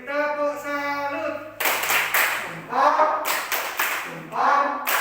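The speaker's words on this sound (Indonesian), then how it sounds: "kalau betul kita beri tepuk salut" A primary-school class performs a rhythmic patterned clap after a voice chants, with several sharp bursts of group clapping in time, fairly close, with speech between.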